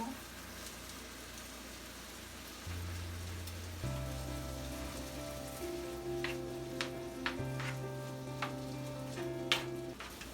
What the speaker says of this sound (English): I'm just gonna wait till the onions get soft with their little stir fry there